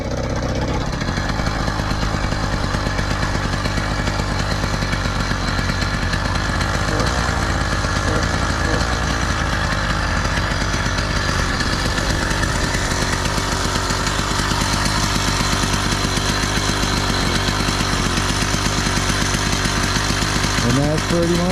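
A Cranbrook motorized bicycle's small engine runs under throttle with a buzzy, rattling drone, close and steady throughout, with someone talking over it.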